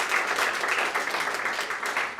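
Graduation audience at an adult education ceremony applauding, a dense, steady clapping from a crowd filling the room, unbroken throughout.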